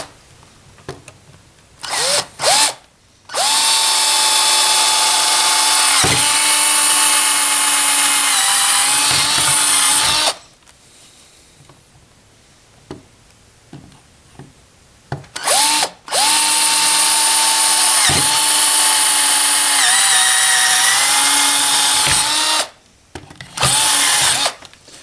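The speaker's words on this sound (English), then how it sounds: "we'll go ahead and drill these 4 holes out. I'm just going to drill all the way through" An electric drill bores holes all the way through a homemade table, heard as two long loud runs of steady whine, each with brief starts and stops, separated by a quieter gap with handling noise.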